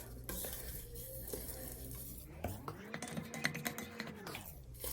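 Spoon stirring a roux in a pot while cooking lima beans, soft scraping and clinking under a low kitchen hum, with a brief faint sizzle and a few louder clanks near the end.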